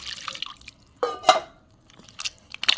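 Kneaded flour dough squeezed and washed in a bowl of water while making Kashmiri paneer: soft wet squelches, drips and small splashes, close and faint, in a few brief squeezes.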